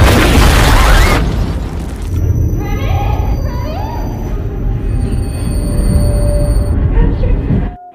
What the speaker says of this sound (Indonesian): ledakan yang telah terjadi di dalam kereta